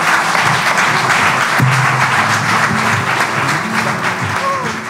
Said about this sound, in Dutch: En ik vraag weer een daverend applaus voor jullie allemaal.